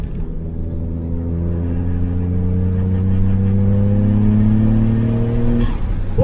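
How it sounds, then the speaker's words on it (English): A car on a cold morning, turbo spooling as the engine revs, giving a loud steady rumble with rising harmonic tones that climb for several seconds. "I don't know if you can hear that, the turbo spooling."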